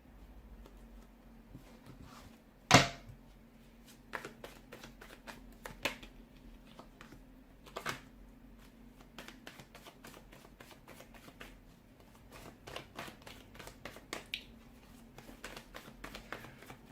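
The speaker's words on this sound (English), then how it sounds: "it just feels like the cards are flying out" Tarot cards being shuffled by hand in a quiet room, with one sharp riffle near the start and then a long run of quick, soft flicks and taps. Close and faint, and no one speaks.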